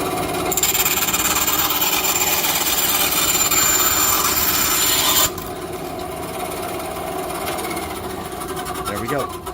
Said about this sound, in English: this Craftsman bandsaw took forever for us to figure out how to get it to work